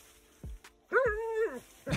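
A dog gives a short, close bark followed by a drawn-out whining yelp, then a brief sound at the end, all fairly quiet against a calm background.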